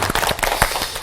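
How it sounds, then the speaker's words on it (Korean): A Bible study class in a room applauding together, a short burst of dense, quick hand claps, close and lively, lasting about a second. "박수 한번 할게요"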